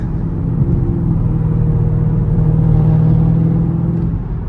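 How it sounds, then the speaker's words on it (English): Chevrolet ZL1 with an LT4 supercharged engine on the stock exhaust, a loud, steady engine drone and low exhaust rumble with a slight rise in pitch, the supercharger whine faint and buried beneath. "You can hear the supercharger a little bit, but it's not super prevalent. The exhaust definitely overpowers it."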